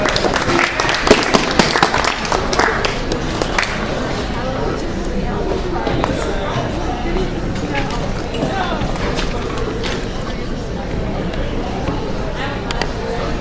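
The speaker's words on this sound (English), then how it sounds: "Please give him a round of applause." Steady audience applause at the BGSU Freedom open mic, dense clapping that fills the room for the whole stretch, with voices talking over it.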